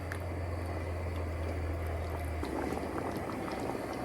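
Chicken rezala curry sauce simmers and bubbles steadily in a pot, a close, continuous wet boiling burble with a low hum that drops away partway through, and no voices.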